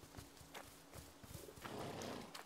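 Horses in the video game A Plague Tale: Innocence snort and breathe in several short, breathy bursts, ending in a longer rough exhale, all fairly close.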